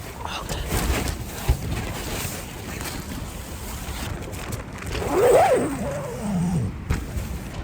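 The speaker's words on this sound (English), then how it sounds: "I'm really scared this wind is gonna blow over the tent" Strong mountain wind gusting against a tent, a constant loud rushing roar that swells and buffets in waves, close and unbroken throughout.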